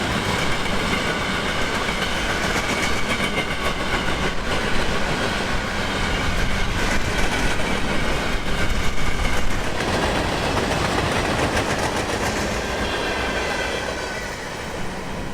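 A long freight train led by a four-locomotive lash-up, about 10,000 feet long with boxcars and phosphate cars, rolls past at night in Central Florida, a steady loud rumble of wheels and engines with rail clatter throughout.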